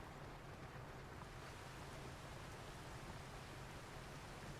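Steady, even rain hiss in the Farming Simulator 25 farming game, a constant broadband wash with no variation, low in level and heard alone.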